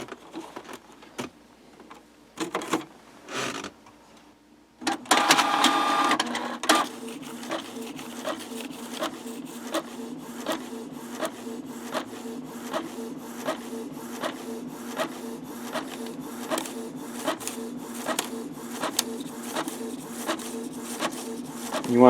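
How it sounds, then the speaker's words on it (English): A printer feeds and prints on a sheet of paper with waxy image-transfer paper taped to it. After a few seconds of handling noises, steady mechanical whirring begins, with a regular rhythmic ticking that continues loud and close to the end. "I'll slide it in my printer with the waxy side down this time."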